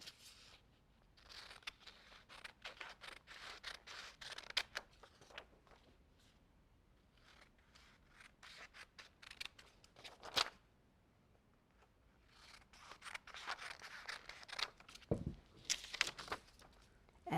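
Scissors cut through a paper printout of a Batman figure in repeated bursts of crisp snipping and rustling, fairly close and quiet, with short pauses between runs of cuts and a sharper handling knock near the end.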